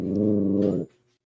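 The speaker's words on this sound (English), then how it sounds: "that was the cat" A house cat lets out a single loud, drawn-out meow-like call lasting under a second, with a rough, growly harmonic tone, then quiet.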